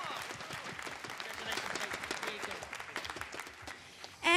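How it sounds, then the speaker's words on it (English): A crowd applauding the second-place finisher, Pua Mangasiva, at a GT Sport New Zealand championship final: a fairly quiet, continuous wash of many hands clapping, with a louder sound breaking in at the very end. "A round of applause for our second place"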